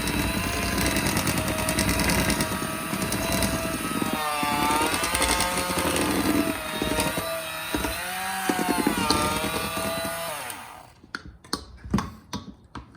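A stand mixer whirs steadily at full speed through cupcake batter with a loud, continuous motor drone that wavers in pitch, then cuts off, leaving a few scattered clicks and knocks.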